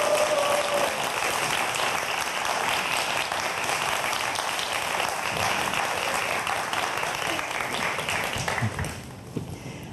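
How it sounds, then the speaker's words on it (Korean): A studio audience applauds to welcome a lecturer onto the stage, loud sustained clapping from many hands that holds steady, then thins and fades near the end. "박수로 맞아주세요."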